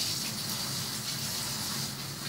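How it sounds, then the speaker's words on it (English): Tap water gushes steadily while a spoon is rinsed off, a continuous close hiss of running water with no break and no talk. "I'm washing off the spoon"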